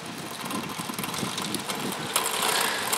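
Electric drive motors of a radio-controlled Hetzer tank run steadily with a continuous mechanical whir and rattle, growing slightly louder and brighter toward the end, no voices.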